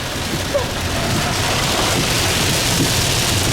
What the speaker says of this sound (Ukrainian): шум дощу.